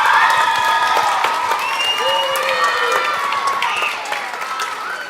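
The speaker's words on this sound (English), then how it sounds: "let's give Kevin a very big round of applause" An audience at a comics and humour festival gives an author a sustained round of applause, dense clapping with a few whoops rising over it, steady and loud throughout before easing slightly near the end.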